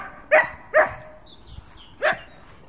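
A dog barks three times, loud and close, two quick barks followed by a pause and a third, with no voices.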